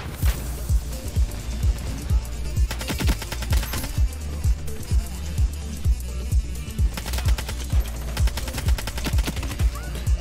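Rapid bursts of assault rifle fire in the shooter game Ironsight, a steady rhythm of sharp shots repeating throughout with brief gaps, loud and close, with a voice faintly talking underneath.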